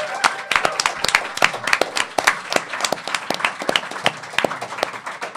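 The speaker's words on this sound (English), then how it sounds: "Big round of applause for yourselves." A theater audience at a summit event claps in a loose, sparse patter of individual hand claps, moderately close, with some voices mixed in.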